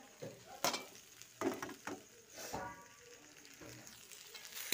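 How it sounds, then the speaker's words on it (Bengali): Potatoes frying with egg in a pan, a soft sizzle punctuated by scraping stirs and clatters, quiet and close with faint background sound. "ডিমের সাথে আলু দিব, এটা ভেজে নিচ্ছি"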